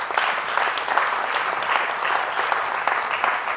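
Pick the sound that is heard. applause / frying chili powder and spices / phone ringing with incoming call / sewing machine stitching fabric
applause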